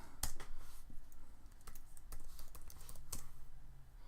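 Someone types a command on a computer keyboard, a run of quick, light key clicks at an uneven rhythm, close and fairly quiet, with a couple of sharper keystrokes standing out.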